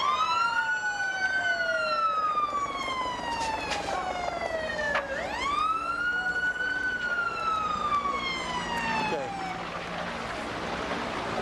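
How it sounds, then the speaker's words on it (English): Fire truck sirens wail past on a city street during the 1992 Los Angeles riots, their rising and falling tones sweeping up and down with a clear pitch drop as they pass, moderately distant over traffic. "here come more fire trucks"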